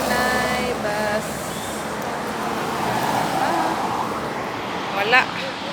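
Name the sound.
bus passing on the road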